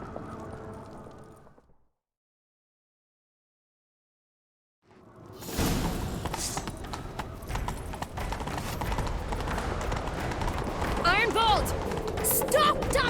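Galloping horse hooves in The Witcher 3 come in after a brief silent gap, a fast rhythmic clip-clop that carries on steadily and fairly loud to the end.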